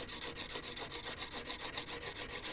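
A file rasps back and forth along a steel axe edge, grinding out a big nick, with steady rhythmic strokes of about five per second, close and even throughout with no talking.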